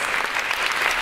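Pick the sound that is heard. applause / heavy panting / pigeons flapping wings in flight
applause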